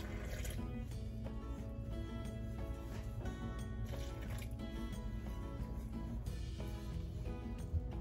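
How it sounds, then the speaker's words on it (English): Water is added gradually to a well of flour for fried dumpling dough in a home kitchen, a soft trickling and dripping under steady background music. "we're gonna start adding our water gradually"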